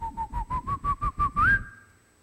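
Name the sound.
whistle imitating a shepherd's call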